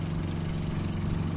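Small motorized boat engine running steadily on calm sea water during an island crossing, a loud, continuous close-up drone with a low throbbing hum and no voices.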